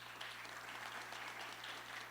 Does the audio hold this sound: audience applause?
yes